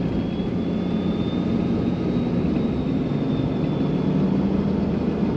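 A big truck's engine runs steadily at close range, a deep continuous rumble with a faint whine above it, holding an even level throughout with no talking.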